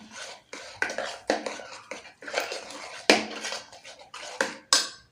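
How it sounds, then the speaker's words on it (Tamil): A spoon stirs sambar with sambar powder and salt in a cooking pot, giving repeated scraping, clinking strokes in uneven bursts, close and fairly clear with no talking. "இது நல்லா கலந்து விட்டுக்கோங்க."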